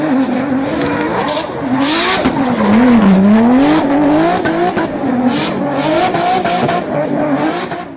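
A turbocharged drift car without a blow-off valve, loud and close, its engine revving and wavering on and off the throttle with tire squeal throughout, no voices.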